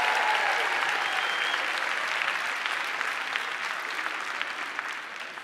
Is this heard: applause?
yes